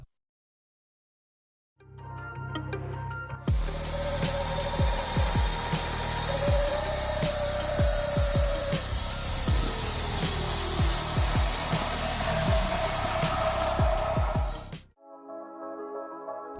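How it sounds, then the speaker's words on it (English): A track-guided saw cuts along wooden logs in a small homemade setup, making a loud continuous grinding roar with rasping and clattering for about eleven seconds before it stops abruptly, followed by lighter mechanical clicks. "The track kept the saw straight from end to end, which helped keep long boards accurate."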